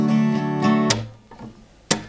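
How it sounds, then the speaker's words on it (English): An acoustic guitar is strummed with a pick while the palm slaps into the strings, giving a few close, percussive chord hits followed by sharp muted slaps with quick decay, no talking. "you bring the palm into the strings as you do it"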